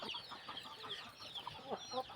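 Gamecock rooster and mother hen on a fighting-cock farm, heard as soft, rapid clucks and short chirping calls repeating through a quiet, faint scene.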